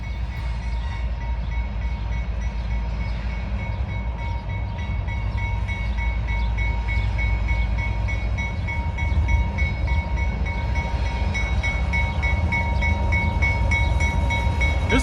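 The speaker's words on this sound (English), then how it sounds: "This will be a decent train." A long CSX freight train rolls past close by in a continuous loud rumble, with wheel and rail rattle and a squealing metallic ring building through the pass.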